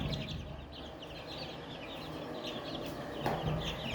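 A hen clucks close by near her chicks, repeating short, soft calls in an irregular rhythm over a faint background hum.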